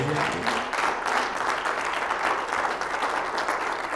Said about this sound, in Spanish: ¿Cuánto da un fuerte aplauso al que vive?